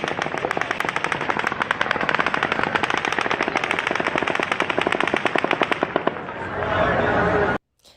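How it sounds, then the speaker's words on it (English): Automatic gunfire cracks in a rapid, sustained volley of dense repeated shots during the Las Vegas shooting, with shouting voices underneath before the burst abruptly stops. "At 10:13 and 30 seconds, the 10th volley of automatic gunfire begins."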